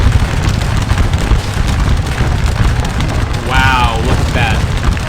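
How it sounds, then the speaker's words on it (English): Artillery fire in a Napoleonic Waterloo battle game booms in a dense, continuous low rumble of overlapping blasts, with a couple of brief whistling tones partway through. "That's actually probably artillery fire more than anything."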